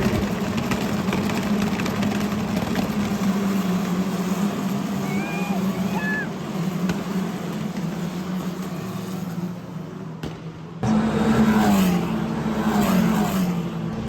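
Race cars at the Dutch Grand Prix, heard as a steady engine drone from a distance that rises and falls as they pass, running beneath announcer commentary, with a brief cut before the engine roar returns louder.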